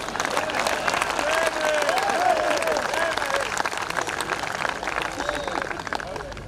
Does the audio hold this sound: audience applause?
yes